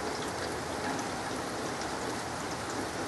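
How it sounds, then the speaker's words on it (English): Steady rain falls outdoors, a soft, even hiss of countless drops on surfaces, continuous and fairly faint throughout, with no voices or other sounds rising above it. "Still raining."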